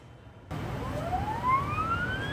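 A Sleipner six-phase electric eThruster motor with hairpin-wound stators starts abruptly with a rising, high-pitched electric whine that sweeps steadily upward over a low hum, heard close and alone.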